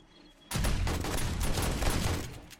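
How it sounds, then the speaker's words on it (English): Shotgun turrets blasting away during a zombie horde night in 7 Days to Die, a sudden loud burst of overlapping rapid shots lasting about two seconds after a brief quiet start. "These shotgun turrets are doing pretty good."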